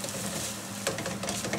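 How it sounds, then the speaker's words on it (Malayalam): A spoon stirs pickle powder in a hot pan while making kambilinaranga pickle, giving a soft, close scraping and faint sizzle with one brief louder scrape midway. "നമുക്ക് ഇളക്കി കൊടുത്താൽ, കാരണം ഇത് കരിഞ്ഞു പോകും."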